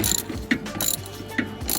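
A ratchet tightening a nut on the anti-roll bar of a 2010 BMW 525d, heard up close as two quick bursts of ratcheting clicks separated by a short pause.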